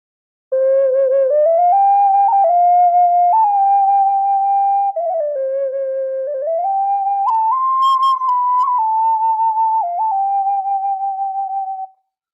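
An Argentine ocarina modelled on Italian ocarinas plays a continuous melody of clear, pure, sustained notes that glide between pitches, close and fairly loud, with no talking.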